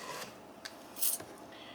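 Scissors snip through lace in a few quick, quiet cuts, close up and soft against a hushed room tone.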